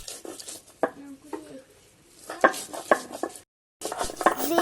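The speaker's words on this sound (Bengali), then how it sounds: "কাঁচা ঝাল বাটতেছি" Green chilies being ground by hand for cooking red amaranth greens and eggplant at home, giving irregular knocking and scraping strokes of stone against stone with short pauses in between.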